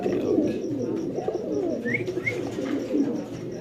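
Domestic pigeons at a pigeon-keeping loft in Bangladesh coo in soft, low, repeated throaty calls close by, with a couple of brief higher chirps mixed in.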